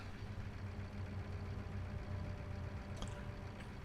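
A ferry boat's steady low engine rumble drones throughout in Euro Truck Simulator 2, with a faint brief clank near the end.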